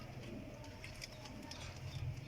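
Pigeon cooing, a high-quality Teddy breed flying pigeon, heard as a low steady murmur that swells slightly near the end, close by with no talking.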